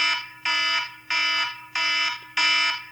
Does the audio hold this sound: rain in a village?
no